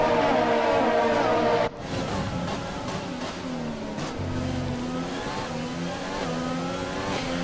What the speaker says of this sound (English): A beautiful sounding engine coming out of that Renault.